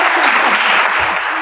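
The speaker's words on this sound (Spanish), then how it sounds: "les pido un fuerte aplauso para las panelistas" Audience at a panel event applauding the panelists, a brief burst of loud, dense, close clapping.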